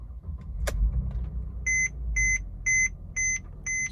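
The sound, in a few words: Mercedes W212 E350 car being switched on, with chime beeps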